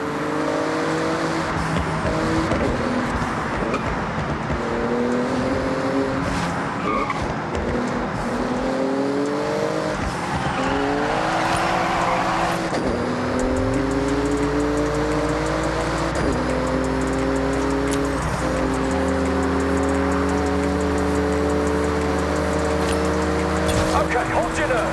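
A Porsche speeding through a speed zone in a driving video game, its engine revving loudly and climbing through repeated upshifts, with a deep roar low underneath and someone talking over the whole run.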